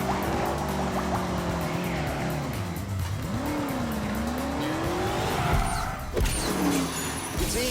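A BMW 8 Series with four-wheel steering drives in The Grand Tour Game, its engine droning steadily with rising and falling pitch as it accelerates, tyres squealing through corners, loud and close throughout.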